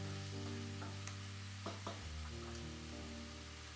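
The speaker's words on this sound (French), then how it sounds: "On va laisser dorer en mélangeant de temps en temps" Vegetables sizzle steadily in a pan as they brown, with a few soft scraping knocks from occasional stirring over a constant low hum.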